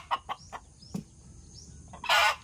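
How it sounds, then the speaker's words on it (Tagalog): A mother hen clucks in short, separate bursts close by, followed by a louder, harsher squawk near the end, outdoors on a farm with faint chirping in the background. "Yan, ang inahin namin."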